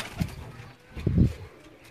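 Breeder pigeons coo inside a loft, with a soft call and then a louder, fuller coo a moment later, close by and clear.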